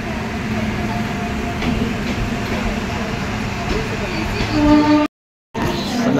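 Morning at a crowded Diva railway station platform with a train: a loud, steady rail rumble and hum, with crowd voices mixed in and a short dropout near the end.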